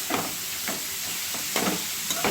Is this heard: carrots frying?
yes